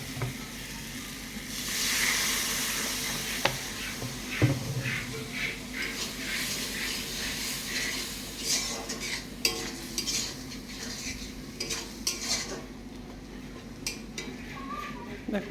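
A curry of salted sea fish with taro and pointed gourd is sautéed with a splash of water, a steady close sizzle broken by repeated stirring scrapes and clinks against the pan throughout.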